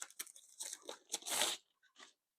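Birthday gift package being unwrapped, a bag holding a small box, with close crinkling, tearing and crunching of wrapping in quick irregular bursts followed by a few faint rustles, no talk.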